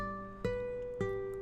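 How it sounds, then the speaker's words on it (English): Two softly plucked classical guitar notes about half a second apart, quarter-note pulse with sustained ringing tones, played quietly and alone as part of a dungeon synth arrangement. "we can start with classical guitar."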